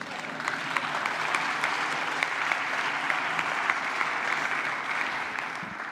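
Sustained audience applause fills a political speech on a new Africa–Europe alliance, steady and dense throughout with no voice above it.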